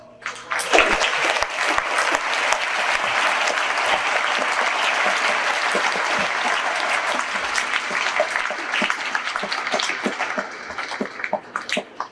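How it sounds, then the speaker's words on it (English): An audience at a middle school veterans celebration breaks into steady, loud applause lasting about twelve seconds, the clapping dense and continuous before thinning slightly at the end. "I want to give y'all a round of applause."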